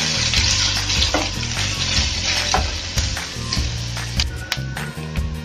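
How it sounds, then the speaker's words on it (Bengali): Onions fry in oil and ghee for egg korma, a continuous close sizzle broken by repeated stirring scrapes and occasional utensil taps against the pan. "পেঁয়াজটা আমি একটু ভেজে নেব।"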